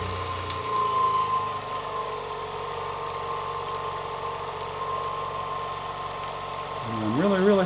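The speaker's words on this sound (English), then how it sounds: "Fire the generator up." A small generator runs on a Jensen 70BBG live steam plant, giving a steady droning hum close by with a rising whine near the end, with no talk.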